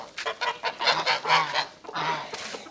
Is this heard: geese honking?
yes